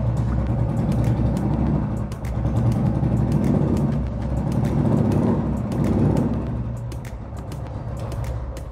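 A Royal Enfield Bullet motorcycle fitted with a Dolphin premium silencer exhaust runs close by with a steady, deep, loud thump that swells and eases slightly as the throttle is blipped, with no talking.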